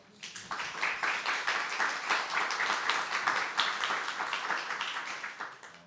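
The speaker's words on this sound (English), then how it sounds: "Can we get a round of applause?" An audience at a panel talk on circular economy design breaks into applause, a dense steady round of many hands clapping that rises quickly and holds for several seconds.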